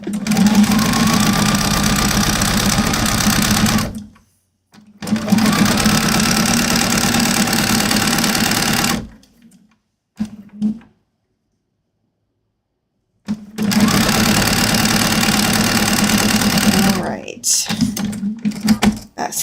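Domestic sewing machine stitching a fabric seam, running in three loud sustained bursts with a steady mid-pitched whirring hum, separated by short pauses.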